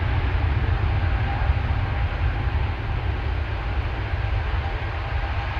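An airliner departs at Amsterdam Schiphol Airport, giving a constant, dense, low roar that holds at an even level throughout with no talking.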